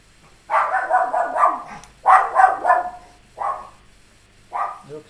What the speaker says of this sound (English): The dog goes ballistic.